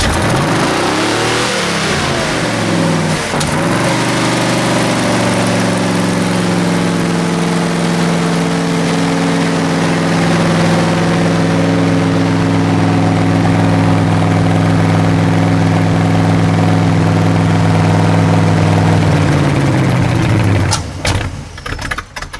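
An AMC V8 engine fitted to a hot rod wood chipper runs loud and close, rising from a rev into a steady rumbling idle for about twenty seconds, then cutting off abruptly.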